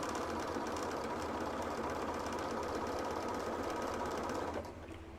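A sewing machine runs a zigzag stitch along the ruffled edge of a blanket with a steady, close, rapid whirring hum. It eases to a softer level at the very end, with no talking.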